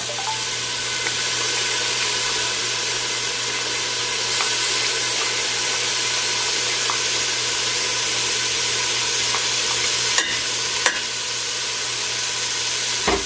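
Sofrito sizzles steadily in a hot soup pot as it is stirred in, a loud continuous frying hiss with a few sharp clinks of a spoon near the end and no talking.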